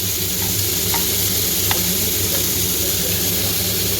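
Chicken frying in a pan for Afghani chicken, giving a steady close sizzle and crackle with a few brief sharper pops.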